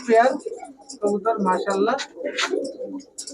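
Pakistani and Giribaz high-flyer pigeons coo close by at a pigeon sale, soft repeated throaty calls overlapping, with a voice partly mixed in.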